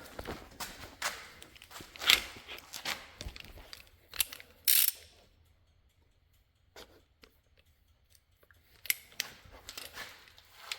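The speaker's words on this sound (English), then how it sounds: "let's get this nut off" Ratchet wrench working a nut on a Ford Ranger's shock mount, heard as bursts of quick clicking with clanks and handling noise, separated by a quiet stretch, close and moderately loud.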